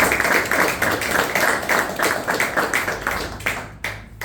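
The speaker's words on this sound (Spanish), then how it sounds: "pido para él un fuerte aplauso" An audience gives loud applause to welcome a speaker at an event in Paraguay, close, rhythmic clapping that swells and pulses steadily before thinning out near the end.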